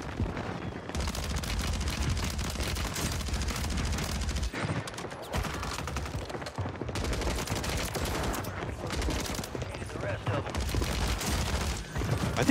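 Sustained submachine gun fire in a video game, rapid continuous bursts with brief pauses, loud and dense over explosions, with faint talk underneath.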